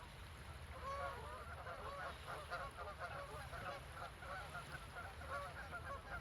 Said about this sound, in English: We got us some honkers up in here.